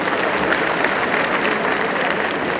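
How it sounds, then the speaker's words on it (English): Applause for gold medal winners at a university convocation ceremony: a large audience claps steadily and densely for the whole stretch, loud and even, with faint crowd murmur mixed in. "let's give them another round of applause"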